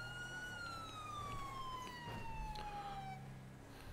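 Police siren from the video game GTA V, a single wailing tone sliding slowly downward with harmonics, loud and steady over a constant engine-like rumble, with no talk.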